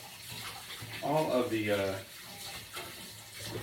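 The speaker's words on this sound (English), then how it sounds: "I'm actually going to step aside here really quickly and rinse off my mold" Running water splashes onto a cake mold being rinsed at a tap, a brief close gush that swells and then fades beneath a steady hiss.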